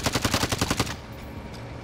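Rapid automatic gunfire in a Destiny Iron Banner match sounds as about a dozen quick, evenly spaced shots in under a second, then stops.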